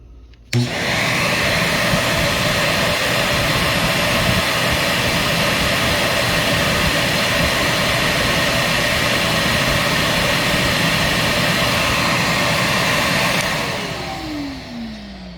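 A Prolux 2.0 bagless backpack vacuum cleaner switches on with a sudden onset and runs as a loud, steady whining roar for about thirteen seconds before its motor winds down.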